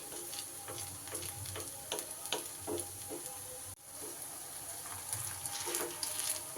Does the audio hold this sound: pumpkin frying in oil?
yes